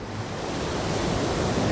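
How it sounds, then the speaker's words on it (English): Ocean surf rolls in a dense, continuous wash of broadband noise, steady and fairly loud with no voices over it. "Todd Endress and Zane Hawley decide to catch some waves."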